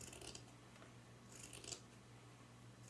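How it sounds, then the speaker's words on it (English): Scissors cutting through both layers of a thrifted green sweater dress, heard as soft, quiet crunching snips in a few short clusters over a low background hum. "I'm going to cut through both front and back"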